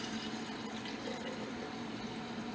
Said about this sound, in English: I'm going to put some of it inside this teacup right here